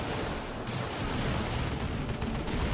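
Dense Dawn of War 2 battle between Orks and Imperial Guard, with continuous overlapping gunfire and blasts forming a loud, unbroken roar of combat.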